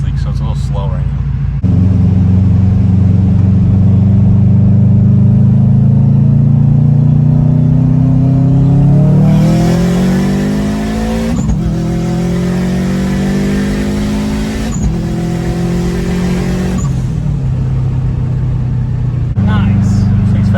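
A big-turbo Subaru Forester with an STI engine swap and a boost leak accelerates hard through several gears. The engine note climbs steadily, with brief breaks at each shift, and the drone stays loud and close inside the cabin.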